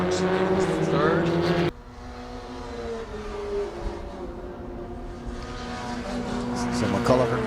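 Formula Ford race cars scream past on a circuit, a loud close engine note that drops sharply as one car passes, followed by further engines rising again in the distance, with commentary over the top.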